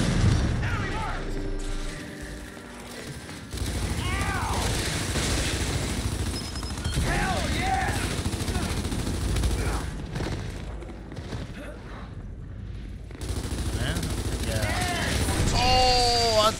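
Gunfire in the shooter game Gears 5 during a ranked match, with repeated bursts and booming shots through most of the stretch, a brief lull in the middle, and players talking over the action.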